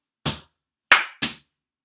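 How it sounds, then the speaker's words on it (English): Body percussion in a sharp three-beat pattern: a foot stomp, then a pause, then a crisp hand clap and a second stomp close behind it. Each hit is close, loud and brief, with silence in between. "we have a stomp, a clap, and a stomp"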